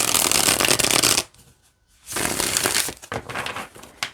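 Playing cards being bridge-shuffled with a forceful push: a loud, dense riffling burst, a brief quiet gap, then a second riffle followed by a few lighter snaps and taps as the deck squares up.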